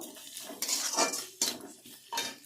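Onions with ginger paste fried in a pan, stirred with a metal spoon: a few sharp scraping clinks against the pan come in bursts over a soft background hiss.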